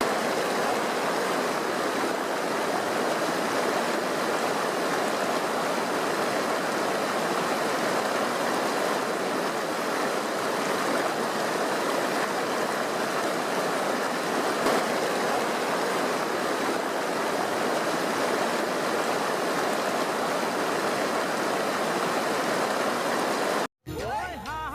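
The Brahmaputra River flows with a steady, dense rushing wash that holds an even level throughout and cuts off abruptly at the very end, with no voices over it.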